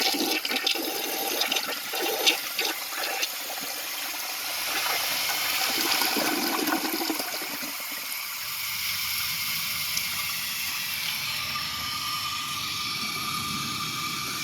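A 2001 American Standard Cadet toilet flushes with dirt and a piece of concrete in the bowl, a loud rushing gush in the first half that settles into a steady trickle and refill hiss.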